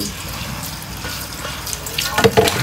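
Fresh vegetables rinsed under a running tap in a rural countryside home, a steady close splashing flow that grows louder and choppier near the end as the produce is handled under the stream.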